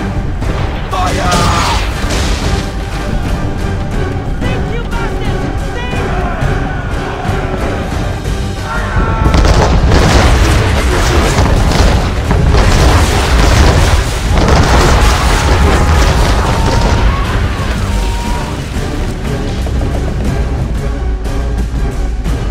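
Ship cannons firing in a naval battle in Assassin's Creed III, heavy booming blasts and crashing impacts layered over a continuous loud roar of wind, sea and music, with shouted voices mixed in.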